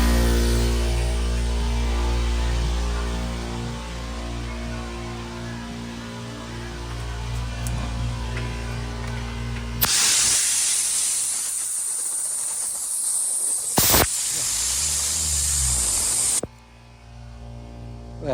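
An air compressor runs with a steady droning hum and tonal motor whine, then gives way to a loud broadband hiss of rushing air before cutting off near the end, with no talking.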